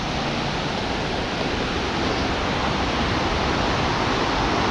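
Water pours in at an earthen bund along a saltwater creek, making a steady, loud rushing wash like a small cascade, unbroken and close for the whole stretch.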